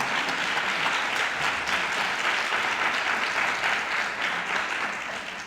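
Steady, even applause from an audience at a journalism panel discussion, a dense wash of clapping heard from a distance that continues unbroken and fades slightly near the end.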